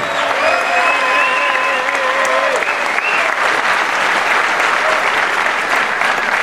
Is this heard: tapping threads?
no